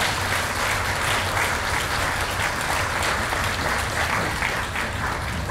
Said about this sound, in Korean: 세 분을 위해서 다시 한번 큰 박수로 환영해 주시기 바랍니다.